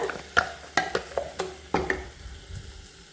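Masala heating in a pan for Goan bangda fish sukka, with a spoon scraping and tapping in irregular strokes over a soft, steady sizzle, close and clear with no talking.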